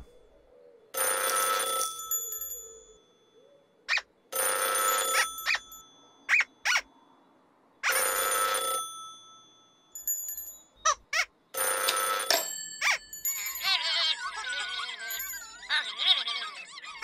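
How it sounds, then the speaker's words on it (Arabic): Emergency telephone ringing in repeated electronic bursts with gaps between them, loud and close, followed by a squeaky, chattering cartoon-like voice. "من يتصل على هاتف الطوارئ؟"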